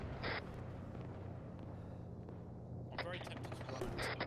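Gunfire in the military shooter Arma 3, with short, sharp bursts near the start and again toward the end and a scattered crackle of shots in between, heard under a steady rumble and voices talking.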